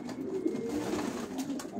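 Homing pigeons coo in a low, steady, rolling murmur that runs continuously and fairly close, with several birds overlapping and no talk.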